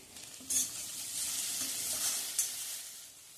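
Onion and bell pepper with a pinch of salt fry in a pan for bread rolls, a steady close sizzle with a couple of sharp spatula scrapes as the mix is stirred constantly, no talk.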